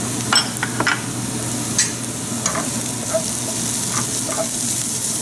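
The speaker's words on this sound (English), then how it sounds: "we'll add the cumin powder here" Cumin powder hitting hot oil with cooked garlic and translucent onions gives a steady close sizzle, broken by light scraping and tapping of a spoon stirring the pan.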